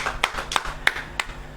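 Four separate hand claps at a church gathering, spaced about a third of a second apart, sharp and fairly close over a quiet background hum.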